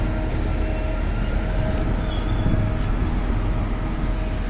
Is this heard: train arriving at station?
yes